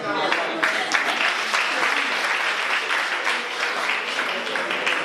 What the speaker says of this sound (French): Vous n'avez pas bien applaudi ça.